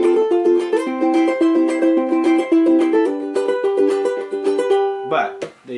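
Close ukulele strumming pattern mixing thumb plucks on the downstroke with up-and-down finger strums, a steady, lively rhythm of chords and single notes before a short voice breaks in near the end.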